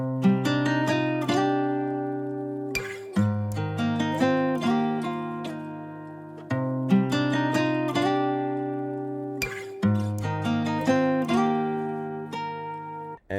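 Sampled guitar chords with a plucked top-line melody repeat in a steady looping phrase, clear and sustained with no percussion or talking, for a guitar-sample hip-hop beat.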